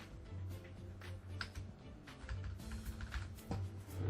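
Sharp computer mouse clicks come in quick, irregular bursts while a Game Dev Tycoon session runs on a PC, close and fairly quiet over a low steady hum.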